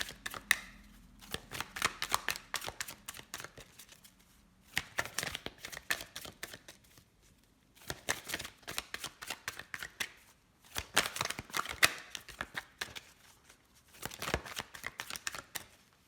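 Large tarot-style cards are shuffled by hand in repeated bursts of rapid riffling and flicking, each lasting a few seconds with brief pauses between, close and crisp.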